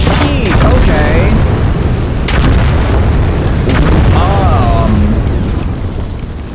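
A hand grenade blows up in the World War II game Gates of Hell among trenches, a loud close boom followed by more blasts and gunfire, with someone talking over the rumbling chaos.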